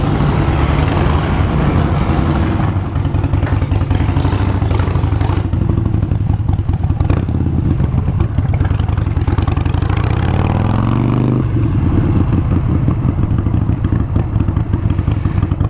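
A 1972 Harley-Davidson motorcycle engine running while riding outdoors, a loud continuous low rumble with clattering mechanical texture and a brief rise and fall in revs near the end, with no talk over it.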